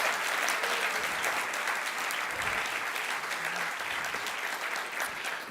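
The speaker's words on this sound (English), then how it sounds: "You can applaud again." Steady applause from a large live audience at a student innovation competition championship, a dense even patter of clapping filling the room without pause and no voices standing out.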